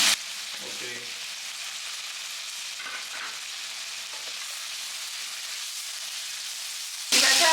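Chopped tomato, coriander and mint leaves fry in a pan for a chicken sambar masala, giving a steady, close hiss of sizzling throughout that flares louder at the very end.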